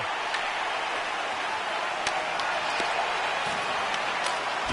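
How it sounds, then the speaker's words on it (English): Arena crowd in the NHL 26 hockey game applauding and cheering as the team is saluted, a steady wash of clapping and crowd noise throughout, with faint commentary underneath. "the crowd's on their feet, saluting the team after a hard-fought effort this evening"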